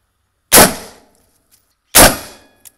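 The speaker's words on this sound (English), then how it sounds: "We're gonna go with a green tip, which is an armor piercing round." Two loud green tip armor piercing rifle rounds fired into a wall, each a sharp close blast with a long decaying ring, spaced about a second and a half apart, then a faint small tick.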